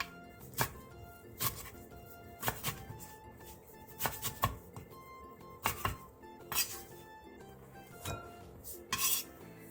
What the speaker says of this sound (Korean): 취나물을 길게 펼친 뒤 먹기 좋게 3에서 4cm 정도 길이로 잘라주세요